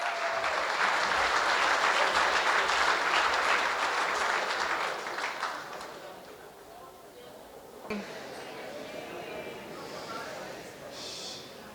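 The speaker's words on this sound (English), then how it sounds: "A round of applause, please, for Heloise." Dense, sustained applause from a gala dinner audience fills the room for several seconds, then thins and fades away before a voice begins speaking.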